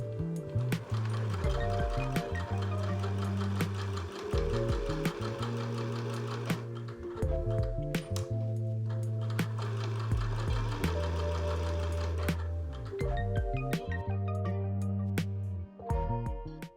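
A sewing machine stitches dress lining made from a tablecloth in repeated short runs separated by brief stops, close and steady, with no voices.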